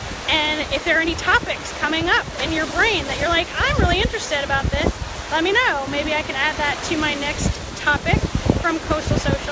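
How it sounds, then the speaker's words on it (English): Ocean waves wash on the Gulf of Mexico shore at Manasota Key, a steady background surf rumble under continuous close talking. "You can hear the waves in the background."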